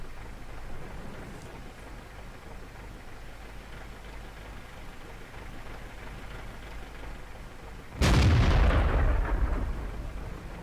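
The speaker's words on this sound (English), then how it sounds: "puts a shot into his side, but unfortunately it bounces" A single loud tank cannon shot in a World of Tanks-style battle involving a T-43 and a 112 heavy tank, booming suddenly after a long stretch of low rumbling ambience and decaying over a couple of seconds.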